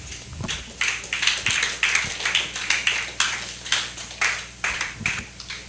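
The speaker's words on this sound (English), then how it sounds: "Some of us are threatening to clap." A small audience claps after a talk on livestock disease control, with sparse, fairly faint claps arriving in an uneven rhythm throughout.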